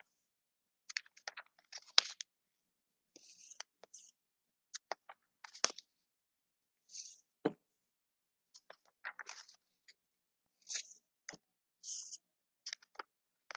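A sheet of office paper being folded back and forth into a narrow accordion, pressed down firmly at each crease, giving scattered close, soft crinkles and crisp clicks in short irregular bursts.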